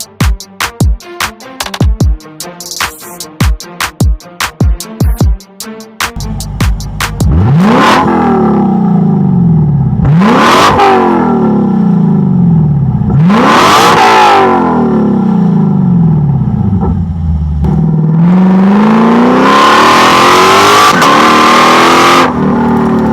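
A Lexus LC500 fitted with an Fi exhaust fires through a rapid string of sharp blips, then roars in four long, loud revs that rise and fall, ending in a sustained rev.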